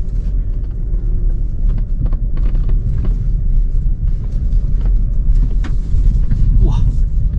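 Qoros 7 with a 1.6T engine and two-wheel drive idling slowly over wavy off-road terrain, a steady loud low engine and tyre rumble with creaks and knocks, with a voice talking over it.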